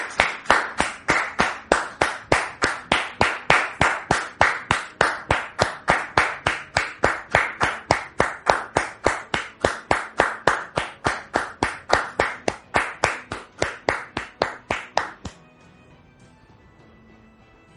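Rhythmic studio audience clapping in unison, a fast regular beat of sharp claps for about fifteen seconds before stopping abruptly into quiet.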